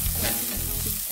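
Coriander stems and carrots stir-fry with cabbage in a hot pan, giving a loud, close, continuous sizzle broken by scraping stirs.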